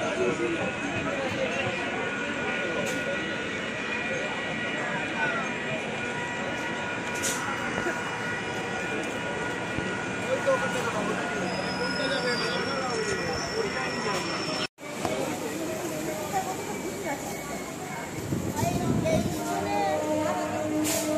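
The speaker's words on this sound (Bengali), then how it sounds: "ট্রেন এখন ছেড়ে দিচ্ছি" A passenger train pulls out of Chandpur station in a steady, continuous rumble of wheels and engine, with people talking nearby throughout and a brief cut near the end.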